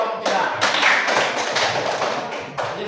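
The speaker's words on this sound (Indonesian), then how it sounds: "Kasih tepuk tangan untuk kelompok 3" Group applause for the third team in a classroom, dense broadband clapping from many hands sustained across the whole stretch at close range, with a teacher's voice faintly mixed in.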